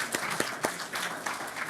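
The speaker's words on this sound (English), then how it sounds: "So let's clap for that." Audience applause for a teacher at an honoree awards event, a short burst of scattered claps over a soft crowd wash, moderately near and fairly quiet, with no talk.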